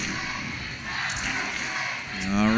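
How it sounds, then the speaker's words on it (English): An arena crowd at an Overwatch League match between Hangzhou Spark and LA Valiant roars and cheers in a broad, sustained wash, with commentators' voices layered over it. "Crowd getting into it now"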